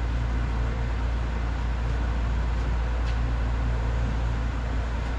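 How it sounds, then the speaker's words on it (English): A parts washer runs in a busy auto repair workshop, giving a steady, dense rushing drone with a low hum underneath, constant and unbroken throughout. "You guys can hear the parts washer going in the background."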